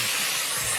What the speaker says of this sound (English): I had a lot of fun with the spray foam.